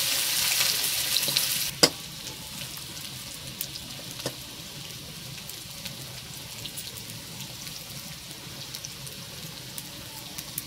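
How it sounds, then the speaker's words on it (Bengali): A loud burst of sizzling opens as carrots hit the pan, then settles into quieter frying crackle with scattered sharp pops and spits. "এবার আমি গাজরটা ভাজবো।"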